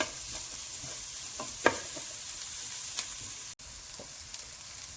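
Vegetable fried rice stirred in a pan, with a soft continuous sizzle broken by occasional light scrapes and one sharp knock, fairly close and steady throughout.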